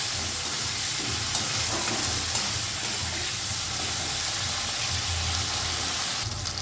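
Garlic and ginger paste fries in a pan over a very low gas flame, making a dense, steady hiss and sizzle throughout with a brief rustle near the end.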